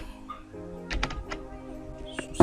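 A computer keyboard is typed on while text is entered in Canva, giving a short cluster of close, distinct key clicks, a pause, then a few more taps.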